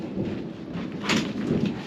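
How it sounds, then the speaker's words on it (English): Thunder rolls through a brief, steady rumble, with a slight swell of energy midway and a faint patter like rain on a surface, heard outdoors beside an RV setup with no one speaking. "you hear that thunder? Hear that thunder?"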